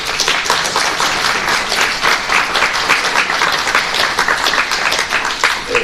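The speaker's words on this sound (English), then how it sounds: "Let's give them a round of applause" A city council audience applauds commission and committee members at a State of the City address, a dense, sustained patter of many hands filling the room without a break.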